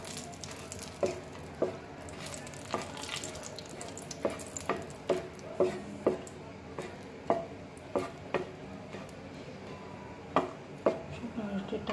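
Dried chillies frying in oil in a frying pan, giving a steady close sizzle with a series of sharp pops and crackles spaced irregularly throughout.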